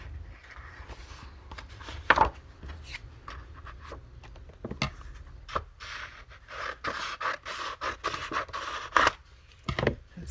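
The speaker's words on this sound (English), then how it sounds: "I'm brushing the camera. I'm very sorry." A brush rubs and scrapes directly against a camera, making irregular close scratchy strokes and bumps, some sharp and loud, scattered across the stretch.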